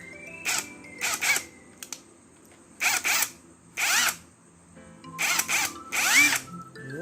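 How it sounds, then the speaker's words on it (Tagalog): A brushless cordless impact driver fires in several short bursts of a few seconds each, loud and close, with pauses of quiet between them. "brushless impact drive"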